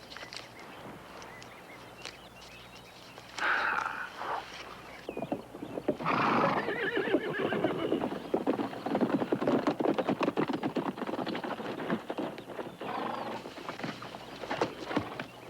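A horse whinnies loudly a few times amid steady clip-clopping hooves, close by, with no one speaking.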